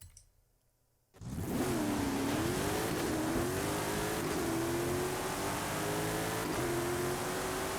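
Land Rover Defender engine in the racing game Forza Horizon 5, which kicks in abruptly after a near-silent second and then holds a loud, steady droning rev that climbs slightly and sustains throughout.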